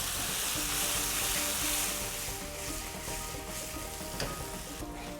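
Salted potato pieces sizzle in a hot pan for an aloo beans sabzi, giving a steady, close, crackling hiss that stays fairly constant throughout.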